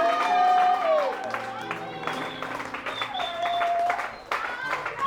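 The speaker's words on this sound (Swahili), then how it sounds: "Itakapoingia pale, piga makofi." A church audience claps and cheers in a loud, sustained burst of applause, with voices and a tonal music-like line running over the clapping.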